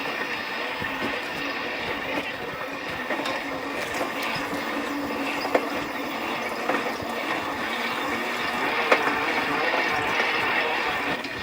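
An electric agricultural cultivator runs steadily with a continuous mechanical whir and ratcheting clatter, moderately loud and close, with a few sharp knocks and no talking.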